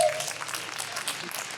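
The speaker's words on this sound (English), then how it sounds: "Give yourself a round of applause" A crowd at a nostalgia fan convention in Anaheim applauds the cast of the 1987 Teenage Mutant Ninja Turtles cartoon, producing a steady, moderately loud patter of many hands that holds even throughout.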